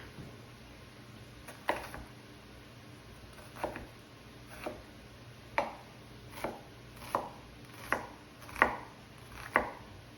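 An onion being chopped with a knife on a cutting board: about a dozen crisp, evenly spaced blade knocks, close and clear over a quiet room with no talking.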